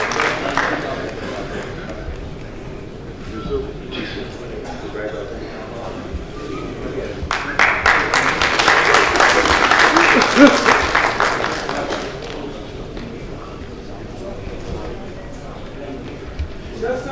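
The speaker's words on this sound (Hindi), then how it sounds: "जोरदार तालियों से" Audience applause at a mushaira poetry gathering in an auditorium, steady clapping under a speaking voice that swells into a louder burst midway before settling back.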